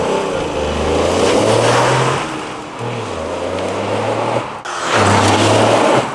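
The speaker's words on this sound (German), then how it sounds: "Der Klang des Yaris wirkt gerade im Innenraum potent." A Toyota GR Yaris engine, heard from inside the cabin, gives a steady low drone that rises in pitch and drops back twice as the car accelerates, over constant road and wind roar.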